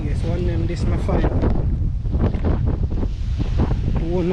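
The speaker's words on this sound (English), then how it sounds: "Very windy out there now." Strong wind buffets the microphone in a steady, loud roar, with voices talking faintly underneath.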